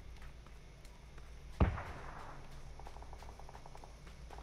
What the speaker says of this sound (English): I heard the explosion up here.